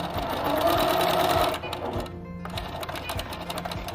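Fast, steady rattling whir of a sewing machine stitching along fabric edges, close and loud for about a second and a half, then briefer bursts of stitching with pauses as the seam is backstitched.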